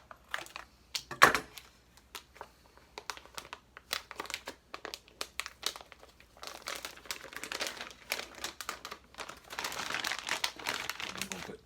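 A food storage bag is trimmed open, giving sharp, close crinkling bursts that come and go irregularly and thicken into denser rustling toward the end.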